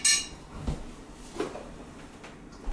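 An oven-proof dish comes out of a kitchen cupboard with a few light clinks and knocks, spaced irregularly and fairly quiet, close by in a quiet room.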